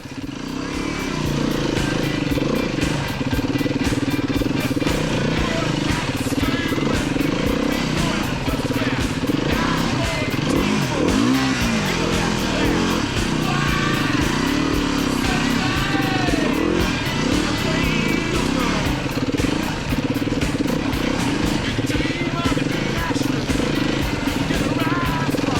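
A Beta 390 RR-S four-stroke dirt bike rides through woods, its engine revving and chugging continuously up close with rises and dips in pitch over rough terrain.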